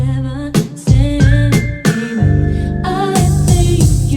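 Sustained keyboard chords change in steady succession, each swelling and bending in pitch as they shift, with layered tones and no voices.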